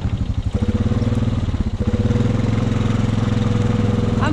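A Honda Rubicon ATV engine labors up a muddy wall, a loud, close, steady throb with a rhythmic knocking pulse that rises and holds as the throttle opens partway through.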